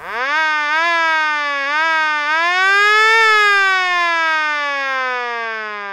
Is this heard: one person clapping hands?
no